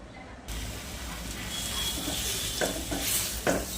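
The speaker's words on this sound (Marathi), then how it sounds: "त्यामध्ये आपण खजूर भाजून घेऊया, मेल्ट करा." Dates roasting in a small spoonful of ghee in a pan, soft steady sizzle under scraping and clicking as a spoon stirs, several sharper scrapes near the end, close and fairly quiet.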